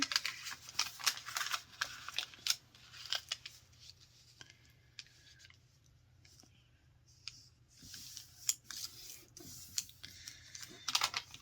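Paper is folded into an origami dove, close, quiet crinkling, creasing and rubbing sounds coming in short bursts with a calmer stretch in the middle.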